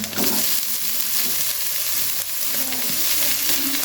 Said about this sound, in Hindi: गाजरों को हमने फ्राई कर लिया हल्का सा